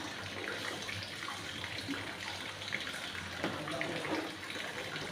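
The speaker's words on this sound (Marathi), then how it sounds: "भाजीसाठी थोडी चिंच लागणार आहे ती धुवून घेऊत आपण" Tamarind being rinsed under a running kitchen tap, a steady broadband rush of water that continues unbroken for several seconds, fairly close, with no talking.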